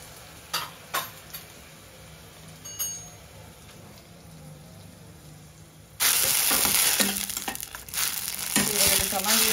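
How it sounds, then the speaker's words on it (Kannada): A few light taps and scrapes come from a frying pan, then tomato puree drops in and a loud, close sizzle bursts up and keeps going as it is stirred. "ಇವಾಗ ಟೊಮೊಟೊ ಪ್ಯೂರಿ ಹಾಕ್ತಾಯಿದ್ದೀನಿ"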